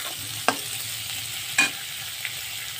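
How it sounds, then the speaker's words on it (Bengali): Capsicum stir-fried in a pan under a soft continuous sizzle, with two distinct spatula scrapes and a lighter third tap spaced about a second apart, close and with no speech. "ক্যাপসিকামটাও দিয়ে দেবো, দিয়ে হালকা নাড়াচাড়া করে ভেজে নেব।"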